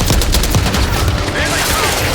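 Dense video-game gunfire from Call of Duty Black Ops 6, a loud continuous fusillade of overlapping shots and machine-gun bursts with voices shouting faintly beneath.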